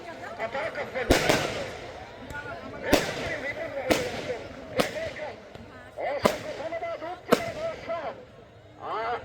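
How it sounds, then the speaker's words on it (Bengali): Fireworks burst at a football match celebration, about seven sharp loud cracks spaced roughly a second apart, each followed by a brief rumbling tail, over a steady background of crowd noise and voices. "আমরা অবশ্য আতশবাজি দেখলাম"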